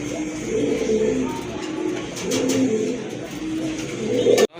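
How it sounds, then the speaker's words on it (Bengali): A pair of khaki pigeons coo in three low, rolling phrases, close and clear, at a pigeon sale, with faint background noise and no talking. "এখানে আরেক জোড়া কবুতর, খাকি কবুতর"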